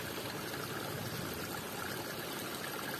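Continuous broadband rush of rainwater flowing, like a small stream running steadily nearby in the Pernambuco backlands, with no talking.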